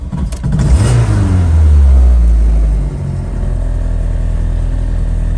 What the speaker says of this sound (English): a quick video of startup and idling on this 1983 Golf.